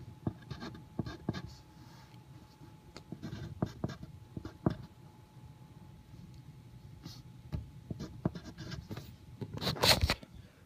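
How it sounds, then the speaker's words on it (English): A math problem being written out by hand, with close, soft pen or pencil scratching and tapping in irregular strokes, ending in a slightly louder cluster of strokes. "So let me go ahead and write that one more problem for you."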